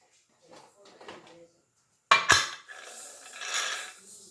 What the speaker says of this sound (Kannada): ಕುಕ್ಕರ್ ಮುಚ್ಚಳ ಮುಚ್ಚಿಬಿಟ್ಟು